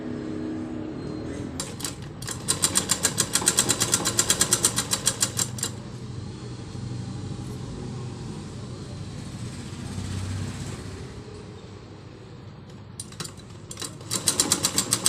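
Sewing machine stitching a lined blouse with piping, with fast rattling bursts of stitching, a quieter stretch of low hum and fabric handling between runs, and a final burst near the end.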